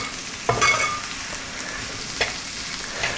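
Sliced onions hitting hot oil in a pan for a country-style mutton curry, a sudden burst of sizzling followed by a soft steady fry with a light clatter, close by.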